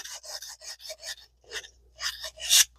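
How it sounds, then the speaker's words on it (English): Emery cloth rubbed back and forth over the axles of a 1980 ABU Garcia Ambassadeur 5000 fishing reel spool, a series of short close rasping strokes in quick succession, with the final stroke loudest. "just take you some emery cloth and polish up those axles on the spool"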